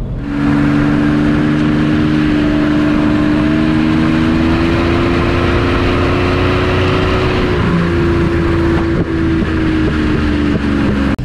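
The warmed-up 5.3 litre V12 of a restored 1972 Jaguar E-Type coupé runs close by, a loud smooth hum whose pitch rises and falls gently as it revs, with a brief rougher stretch near the end.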